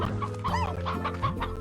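Stony hens and a pair of roosters in the Slime Rancher game cluck steadily in a dense, overlapping chorus, with repeated rising calls standing out over a busy flock.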